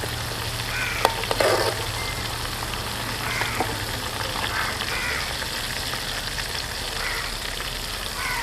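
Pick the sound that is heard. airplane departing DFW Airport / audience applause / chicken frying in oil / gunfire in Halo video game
chicken frying in oil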